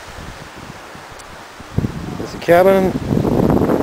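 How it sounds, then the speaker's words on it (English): Wind blows at a lakeside beside a cabin, a rushing, rustling noise close to the microphone that grows stronger partway through, with someone talking over it. "A little bit windy here today, so we will just take a little walk."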